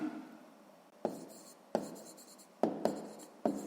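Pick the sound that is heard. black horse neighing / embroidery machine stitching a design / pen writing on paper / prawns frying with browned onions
pen writing on paper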